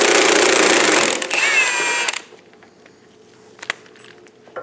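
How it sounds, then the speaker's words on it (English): A 24mm socket turns the idler arm nut on a 2003-2025 Chevrolet Express 2500, giving a loud close burst of mechanical ratcheting and metallic clatter for about two seconds, then a few faint clinks in quiet. "Using a 24mm socket,"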